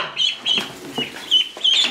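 Four baby chickens and four ducklings in a box give a run of repeated high, thin peeps, loud and close, with short gaps between the bursts of chirping.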